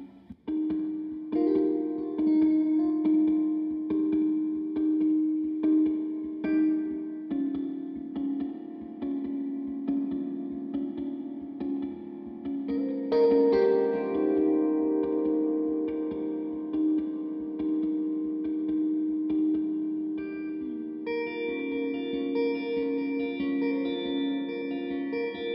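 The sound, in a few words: guitar with long reverb emulating a sympathetically resonating piano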